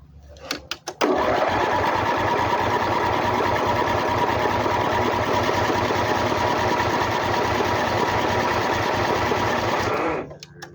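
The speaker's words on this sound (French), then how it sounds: "normalement il y a suffisamment d'essence pour démarrer" Ride-on lawn mower tractor engine under restoration, with the fuel just topped up, starts after a brief crank and runs at a steady, loud, rapid chugging for about nine seconds before cutting off; nobody talks.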